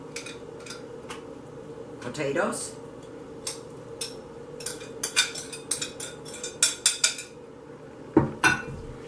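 A utensil spreads a topping evenly over sweet potatoes in a dish, giving soft scraping and light clinks that grow more frequent toward the end, close and fairly quiet, with a voice talking over them.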